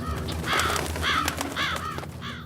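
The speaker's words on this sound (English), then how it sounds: "Phew, it's just birds." Crows caw in a quick series of harsh, loud calls, four or five rasping cries close together, over a busy outdoor background.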